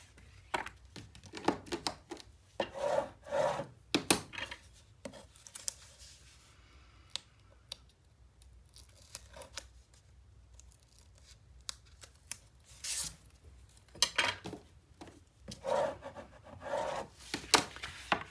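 Scoring tool dragged along a quarter-inch score line on patterned paper for a 9 x 9 mini album, heard as bursts of close, dry scratching and rubbing strokes with quiet pauses between them.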